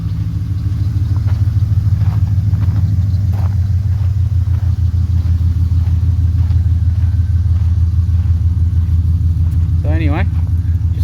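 Corvette LS1 V8 swapped into a Holden Statesman, idling steadily with a deep, loud, continuous rumble throughout, a brief voice-like chirp near the end.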